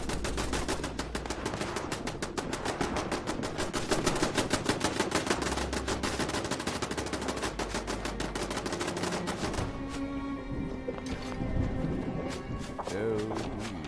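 Rapid machine-gun bursts from defensive turrets in the Fallout 76 video game, a dense continuous rattle of overlapping shots for most of the stretch, thinning into scattered fire and a brief whine near the end.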